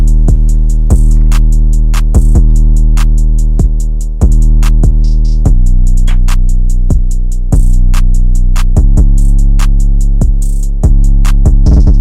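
A steady FL Studio drum beat for a melodic track loops with punchy kicks and crisp hits in a regular rhythm over a sustained deep 808 bass layer, loud and close with no talking.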